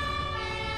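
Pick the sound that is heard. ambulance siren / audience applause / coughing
ambulance siren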